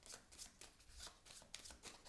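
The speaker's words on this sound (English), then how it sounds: "I will shuffle up my discards" Playing cards are shuffled by hand during a solo tabletop game, quiet riffling bursts repeating in a loose rhythm, close and soft with no voices.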